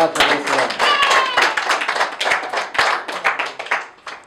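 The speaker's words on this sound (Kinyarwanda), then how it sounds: "Reka uyu mwami tumukomere amashyi cyane." A church congregation claps hands in quick, uneven bursts, loud and close, with a voice speaking over the clapping.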